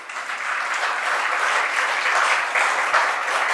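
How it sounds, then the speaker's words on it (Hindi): An audience claps at a spiritual discourse by a Jain monk. The applause is steady, dense and loud, sustained throughout with no voices over it. "जैसे आप ताली बजा रहे हैं"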